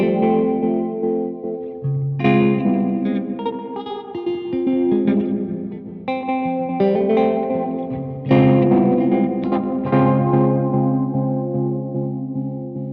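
Guitar chords played through a Champion Leccy Skitter reverb pedal with its light control set to the darkest position, giving a loud, sustained, washy tail; several strummed chords ring out and overlap with no talk.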